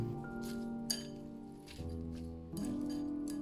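Sugar and white vinegar stirred into sliced cucumbers for a cold-dressed salad, giving soft clinks of utensil against a glass or ceramic bowl over a steady wet mixing sound, with a few sharper taps, close and fairly quiet.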